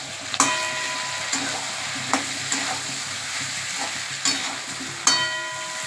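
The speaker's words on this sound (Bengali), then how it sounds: "তা এবার আমি এটাকে নাড়ছি।" Prawn curry with potato and pumpkin being stirred in a pan, a steady sizzle of frying underneath a few distinct scraping knocks of the spoon against the pan spread across the stretch.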